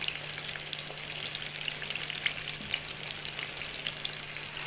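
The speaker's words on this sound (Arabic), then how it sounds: "البتنجان لسه ما وصلش للدرجه اللي انا عايزاه، انا بحب احمره قوي" Eggplant for moussaka frying in oil in a pan: a dense, continuous crackling sizzle with tiny pops, steady and close, with no talking.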